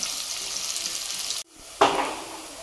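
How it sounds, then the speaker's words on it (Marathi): Sliced onions fry in hot oil with a steady broadband sizzle that cuts off briefly, then bursts back loudly as more onion hits the oil and keeps crackling. "कांदे उभे कापून घेतलेत आणि त्यांना आता तेलामध्ये टाकलेत आणि फ्राय करते."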